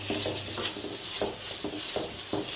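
Onions being sautéed in a pan with cinnamon, cloves, cardamom and bay leaf for a pigeon curry: a steady, close sizzle with repeated stirring scrapes and soft clinks of a spoon against the pan.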